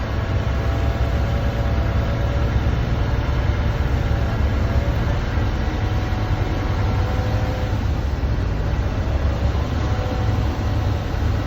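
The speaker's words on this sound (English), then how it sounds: "just rev it up a little bit until you hear the sneeze" A truck's diesel engine runs loud and steady with raised revs, a continuous low rumble and drone while the air brake system builds pressure, no voices present.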